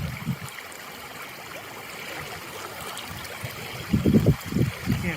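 A flooded creek flows past a campsite in a steady, close rushing trickle, with a few louder gurgling surges near the end and no one speaking.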